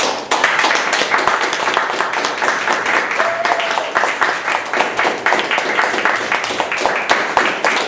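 A room full of people applauds a speaker at a Toastmasters club meeting, sustained loud clapping from many hands with a brief cheer partway through.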